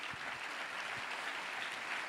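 Church congregation clapping together during a ministry retreat service, a dense, steady patter of many hands that continues without pause.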